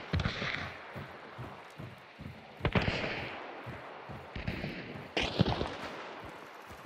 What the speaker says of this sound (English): they're shooting at somebody else